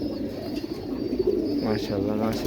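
Pigeons coo softly in low, throaty murmurs close by, with people talking over them.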